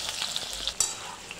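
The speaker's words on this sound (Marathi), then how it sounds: "आता काय ते फ्राय करते." Long, flat potato slices sizzle steadily in a hot pan of oil, a close, continuous crackle with small pops and a few brief stirring clicks, no voices.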